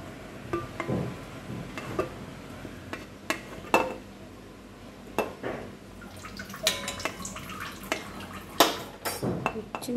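Stuffed bitter gourds lifted out of a cooking pan after simmering with tamarind, giving irregular clinks and scrapes of utensils against the pan with light drips of water, close by and without talk.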